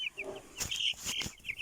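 A rooster being held and handled gives several short clucks and squawks, with a few bursts of wing flapping or rustling, all close and fairly loud.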